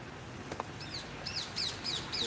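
Small birds chirp outdoors in a series of short, repeated high tweets, moderately near, over steady background noise with no talking.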